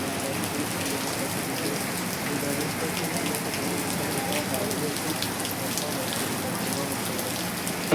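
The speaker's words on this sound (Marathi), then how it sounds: "पाऊस पडतो त्याच्यामुळे." Steady rain falls through the whole stretch during a Ganpati darshan outing in Dharavi, Mumbai, a dense continuous hiss of drops on surfaces with no breaks and no talk over it.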